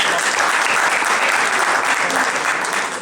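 An audience at a general assembly claps in sustained, dense applause that holds steady for the full three seconds.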